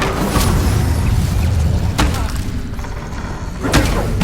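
Incendio fire spells cast repeatedly in Hogwarts Legacy, giving a few booming whooshes and thuds over a dense, noisy game soundscape.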